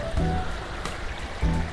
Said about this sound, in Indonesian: Dan ini ada sungai tuh, asik ya suaranya, gemerciknya.